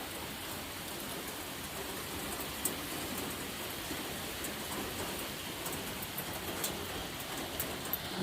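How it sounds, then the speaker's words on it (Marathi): Heavy rain pours outside, heard through a mesh screen as a soft, continuous wash of drops at moderate distance, steady and unbroken with a few faint knocks near the end. "भरपूर पाऊस आहे आज"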